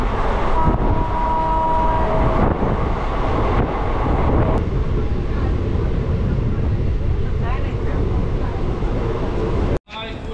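Local train running on a rural line in Bengal, a steady loud rumble and rattle of the carriage with wind buffeting the microphone throughout, ending in a brief cutout.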